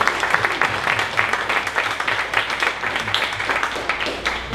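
Audience applause for a presenter at a Dallas startup pitch event, a fairly light, uneven patter of hands clapping steadily for a few seconds without talk on top.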